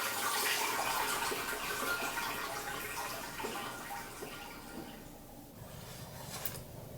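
Hot spring water sloshing and swirling as someone moves through the bath, a continuous close splashing wash that gradually quietens, with no talking.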